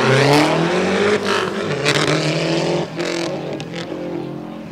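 Loud drag race cars, a blue Ford and a Mazda, roar and rev up at Rockford Speedway spectator drags through rising gear changes, close and harsh, with brief dips between shifts.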